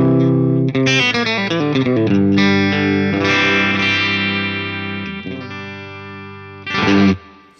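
An electric guitar plays a dry, unprocessed tone through a Dr. Z amplifier, with quick strummed chords and picked notes ringing out clearly and closely, ending on a final loud strum.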